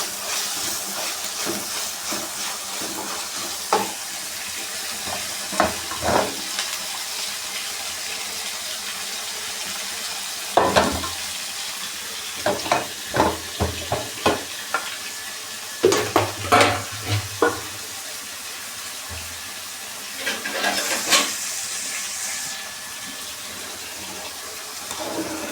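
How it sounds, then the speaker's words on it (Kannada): Tomato masala sizzles and fries in a pan for dal vegetable khichdi, with steady hissing and repeated scraping stirs, plus bursts of louder clatter and a brief run of water. "ಚೆನ್ನಾಗಿ ಫ್ರೈ ಮಾಡ್ಕೊಬೇಕು"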